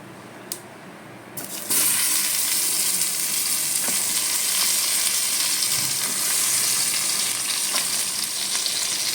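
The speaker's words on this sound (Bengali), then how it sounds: "কালো জিরে ফোড়নটা দিয়ে আমি এবার বেগুনগুলোকে ভেজে নেবো" Eggplant pieces with nigella seeds drop into hot oil and burst into a loud, steady sizzle that continues without letup, following a few quiet clicks at the start.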